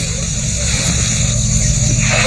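A support vehicle's car engine revs near wild elephants in Sri Lanka, a loud, close, continuous low growl that holds steady for a couple of seconds.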